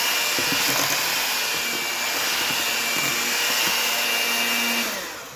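An electric hand mixer beats apple cake batter in a home kitchen, a steady loud motorized whir with a faint high whine that holds evenly throughout and fades slightly at the end.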